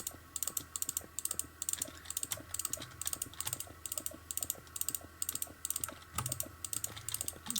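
Rapid, sharp clicks from a computer keyboard and mouse during a computer game, fast irregular bursts of close, crisp taps continuing throughout with a faint low hum underneath.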